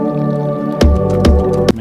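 A cup of water poured into browned flour in a pan for beef nihari, a loud close splash and gurgle with a few squelching bursts as the liquid hits the hot flour.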